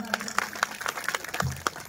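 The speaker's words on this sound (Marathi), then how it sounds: "महाराजांसाठी जोरदार टाळी वाजवा" Kirtan audience claps for the maharaj in a quick, fairly regular run of distinct hand claps at moderate distance, with a short voice briefly under them.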